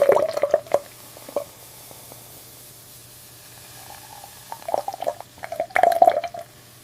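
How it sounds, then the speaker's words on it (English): Cold beer runs into bottles on a bottling line, heard as quiet wet squishing, dripping and spraying bursts in irregular clusters, close and alone with no voices. "The cold beer flows down the inner walls in a spiral, a smooth laminar flow designed specifically to prevent foaming"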